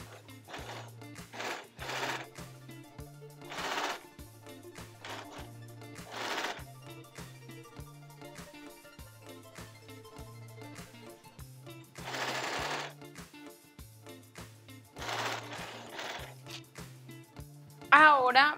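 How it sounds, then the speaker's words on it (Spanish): A sewing machine stitches the side seams of a blouse, starting from the sleeve hem, in repeated short runs of rhythmic mechanical whirring broken by brief pauses, with a voice speaking between bursts. "voy a empezar a coser los costados, empezando con la parte de la manga"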